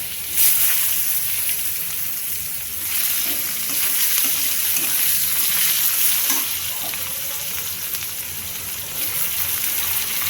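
Raw onion, potato and long beans frying together with fish head in a pan, a steady loud sizzle running throughout with occasional spoon stirs and no talk.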